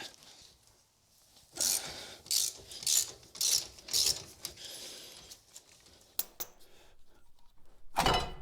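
A ratchet clicks in rapid, loud bursts while removing the axle bolts on an LJ Rubicon Jeep, five or six separate runs close by, followed by quieter metal handling and a final clatter.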